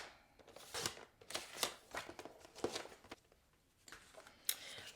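Scissors cutting through card paper for a fun fold card, a run of close, crisp snips and rustles coming in short irregular bursts with small pauses between cuts.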